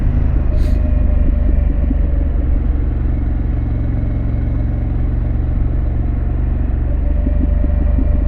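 A Harley-Davidson Pan America motorcycle fitted with a Vance exhaust, heard as a steady, loud, deep engine rumble while riding, with constant wind and road noise and no talk.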